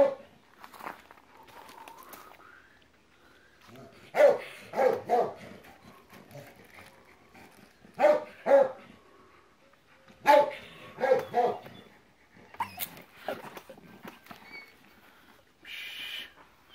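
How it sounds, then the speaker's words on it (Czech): A dog gives several short bursts of barking, spaced apart with quiet gaps between, close and moderately loud, along with light pattering and shuffling sounds and no one talking. "Hodný pes."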